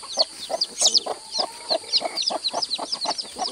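Chickens at a farm where hens are laying, a rapid series of close, loud clucks and short squawks in an uneven rhythm, with no talking.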